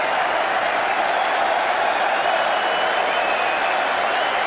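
Steady, dense applause from a large cricket crowd at The Oval during the fifth Ashes Test of 2005, a continuous wash of clapping that holds at full volume from start to finish with no gaps.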